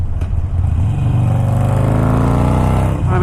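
A 2019 Harley Davidson Sportster engine revs up with a rising, throaty roar, heard loud and close as it pulls through the gears with a slight wavering pitch, then eases off at the end.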